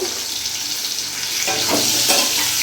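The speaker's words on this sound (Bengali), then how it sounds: "আলুগুলোকে ভালো করে আমি ভেজে নেব" Potatoes sizzle and fry in a pan seasoned with salt and turmeric, a steady dense crackle with stirring scrapes growing slightly louder toward the end.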